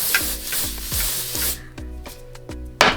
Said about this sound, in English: So what I like to do is go in with some hairspray